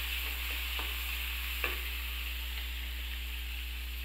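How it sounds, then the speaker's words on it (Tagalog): Garlic, onion and tomato sautéing together in very hot oil, with a steady, even sizzle under a continuous hiss and a few faint stirring clinks, close by and with no talk. "Sa sobrang init ng mantika, napakabilis na gisa ng ating bawang, sibuyas, kamatis."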